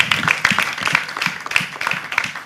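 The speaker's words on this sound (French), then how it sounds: "Pour vous dire merci, ce sera avec des applaudissements de notre part encore une fois" Audience applause at a parliamentary debate event, dense and steady clapping from many hands filling the room for the full stretch, fairly close and loud with no talk over it.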